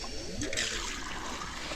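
Water pours into a horse water trough on a ranch, a short burst of splashing and gurgling flow heard up close.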